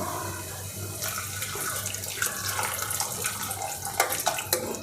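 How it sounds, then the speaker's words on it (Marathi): Hot water is poured into a simmering vegetable curry, giving a continuous close splashing, gurgling pour that swells slightly toward the end, with no voices. "इथे आपल्याला गरम पाणी घालायचं आहे"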